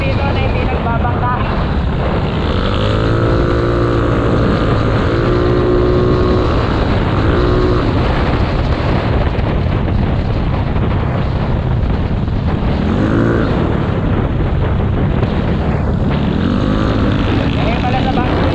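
A motorboat engine drones loud and steady throughout a ride at sea, with heavy wind buffeting and people's voices talking over the continuous roar.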